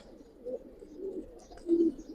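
Soft, low coos from Giribaz pigeons, a few muffled rounded calls over about two seconds, fairly close with quiet background.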